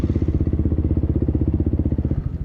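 A 2-stroke 50cc dirt bike engine runs steadily close by, a loud buzzing, rapidly pulsing exhaust note holding a constant pace before easing slightly at the end.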